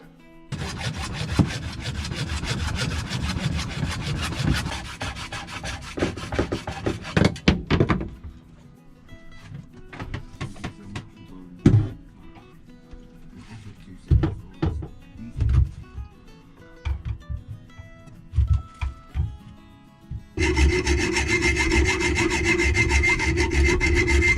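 Two long bolts being cut off inside a boat's chain locker during a DIY modification: a loud, continuous grinding-saw roar, then a stretch of scattered knocks and metallic clunks, before the steady cutting noise resumes at full loudness.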